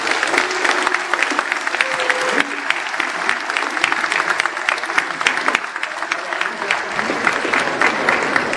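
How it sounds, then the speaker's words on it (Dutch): Warm, sustained applause from a large crowd at a political party members' day in the Netherlands, many hands clapping densely and evenly throughout, with a few brief voices and tones surfacing underneath. "Dus een heel warm applaus."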